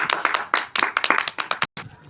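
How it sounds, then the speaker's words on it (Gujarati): A small group of people clapping close by for a boy after a one-minute pakodi eating contest, quick uneven claps in bursts that stop briefly near the end, then resume softly. "ચલો, પૃથ્વીરાજ માટે તાળીઓ પાડો।"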